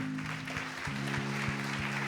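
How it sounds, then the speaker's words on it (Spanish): A church congregation claps for its King during an evangelical sermon, a steady crowd applause with a sustained organ or keyboard chord droning underneath. "Dele un aplauso fuerte a su Rey"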